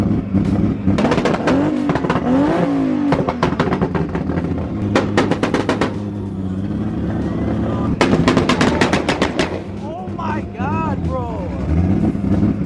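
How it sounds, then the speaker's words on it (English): A loud Toyota Supra engine revs hard on a two-step with bursts of sharp exhaust pops and crackles, interrupted by brief pauses, with people talking and shouting over it. "That Supra is so loud, bro."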